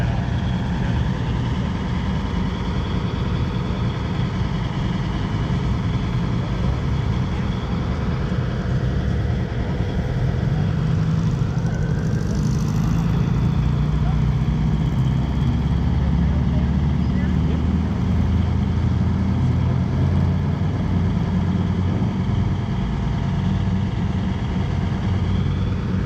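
Engines at a car show, including a twin-engine Ford Ranchero, rumble and idle steadily for a long stretch at moderate distance as cars leave, with voices talking faintly under the drone.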